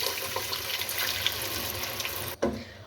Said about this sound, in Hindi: अब इसके अंदर 1 गिलास पानी डाल दें।